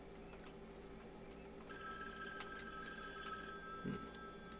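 A telephone rings steadily and faintly inside a Halloween fan video game, a continuous tonal ring set low under background ambience, with a soft knock near the end.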